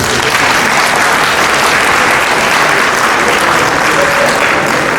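A crowd at an opening ceremony in Ogun State claps for itself, a loud, dense and steady wash of applause that continues unbroken throughout.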